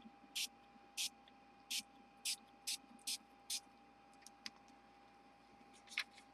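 Orange mist spray pumped onto a paper calendar page, seven short sharp hissing bursts in an even rhythm followed by a few fainter sprays, close and alone in a quiet room.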